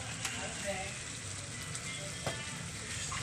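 Cooking oil sizzles in a pan over a fire for chicken barbecue adobo, a constant crackling hiss with occasional pops, fairly even throughout.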